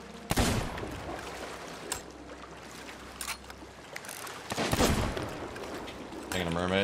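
Gunshots ring out in the Sea of Thieves pirate ship video game: a few sharp, loud cracks spaced over several seconds against sea and boat ambience, followed by a brief whooshing effect.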